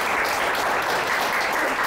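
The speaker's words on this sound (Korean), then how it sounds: "우리 큰 박수로 감사 인사드릴까요?" An audience claps steadily and loudly after a talk by a novelist, a dense continuous applause with no voices over it.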